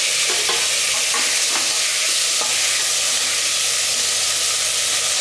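Onions and small tomatoes saute in oil for a mutton curry, a loud, dense, continuous sizzle and hiss with a few faint stirring knocks beneath it.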